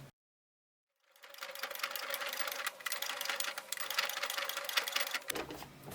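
A sewing machine runs in a fast, steady whir while stitching a fabric baby toy, starting after a second of silence and stopping near the end with a brief click.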